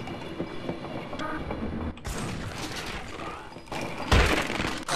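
A train rumbles and clatters along in a video game, with a steady loud mechanical roar, a brief dip near two seconds, then a louder rattling surge toward the end, no talk heard.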